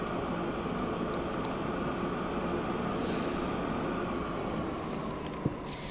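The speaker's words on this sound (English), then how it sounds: "This train's on the wrong side again." A train runs in the video game Transport Fever 2, giving a continuous, even rolling rumble with a faint metallic edge that holds steady from start to finish.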